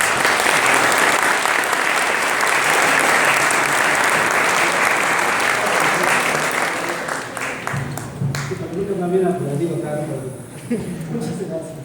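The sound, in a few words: applause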